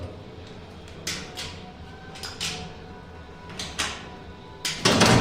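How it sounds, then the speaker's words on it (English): Doors of an old gated goods lift in Prague operating, with a series of sharp metallic clanks and rattles spaced out over a low hum, ending in a louder, sustained burst of clattering noise. "Old gated goods lift."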